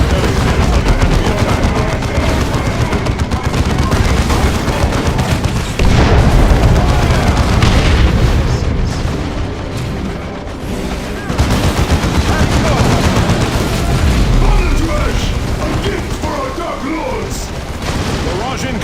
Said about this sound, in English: barrage incoming!